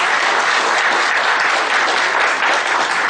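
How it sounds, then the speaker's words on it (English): Loud, dense applause from an audience thanking the speaker after a session on direct tax amendments, a continuous wash of many hands clapping close by, steady from start to finish with no speech. "let us thank the speaker for his valuable time and knowledge sharing with a round of applause"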